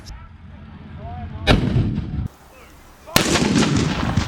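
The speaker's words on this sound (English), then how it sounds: "this huge monstrous shell, which is going to be fired from the gun on top of the Scorpion, our tracked vehicle" Heavy gun on a Scorpion tracked vehicle fires a large shell at a military vehicle show, two loud booming blasts about a second and a half apart, each with a rumbling tail, outdoors with no talking.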